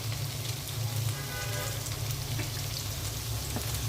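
Shrimp frying in hot oil with onions gives a steady, close crackling sizzle with a low hum underneath, running continuously with no talk.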